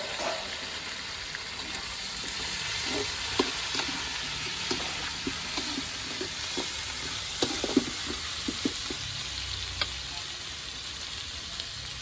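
Curry leaves and onions frying in oil in a pan for a goat intestine masala curry, a steady close sizzling hiss with scattered light pops and occasional stirring scrapes.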